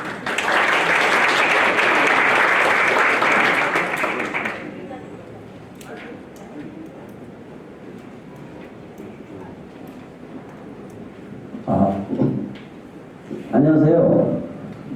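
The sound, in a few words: audience applause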